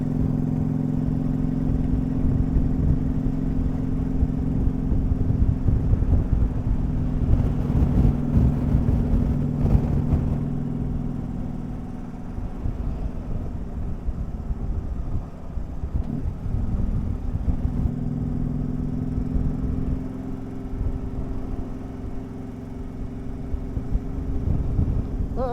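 An old Mack truck's engine drones low and loud while driving, with a steady rumble that eases and picks up again, and no talking.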